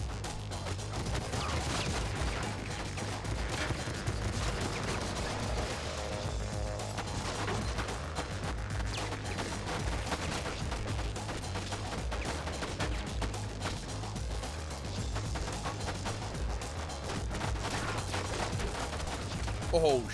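Gunfire in Sum of All Fears on GameCube crackles as steady, rapid volleys of shots and bursts, fairly faint and continuous for about twenty seconds, with people talking over it at times.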